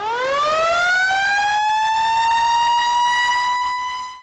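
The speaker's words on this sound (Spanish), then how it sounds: "hacer sonar la sirena del cuerpo de bomberos de la avenida Mella para anunciar su presencia a la población" A fire brigade siren on Avenida Mella winds up from a low growl to a loud, steady wail that holds for several seconds before cutting off abruptly, strong and close with no voices.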